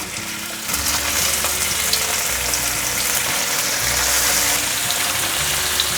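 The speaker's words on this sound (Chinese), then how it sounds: "把豆包放进来煎" Tofu skin rolls pan-frying in a little oil, a continuous crackling sizzle throughout with a low background hum underneath.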